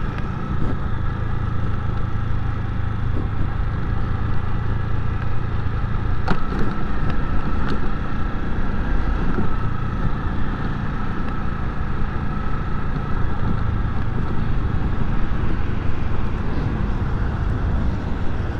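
A 2001 Honda Titan 125 ES motorcycle is ridden off-road, its small engine droning steadily and fairly loud throughout with slight variations in pitch and occasional knocks.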